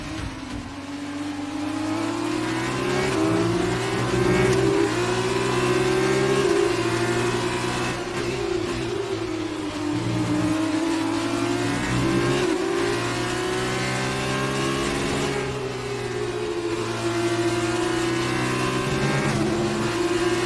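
A race car engine in F1 2019, in an F2 story career race, revs high and steady with rising and falling pitch sweeps as it accelerates through gears, loud and close throughout with no talk.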